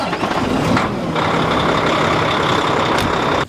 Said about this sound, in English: So while the truck's warming up